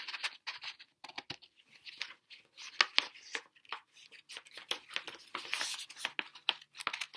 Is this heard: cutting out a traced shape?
yes